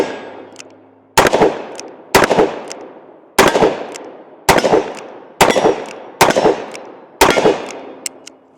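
A revolver fitted with a Midwest Industries brace fires seven loud, close shots in a fairly steady rhythm about a second apart, each sharp crack trailing off into a short ringing echo.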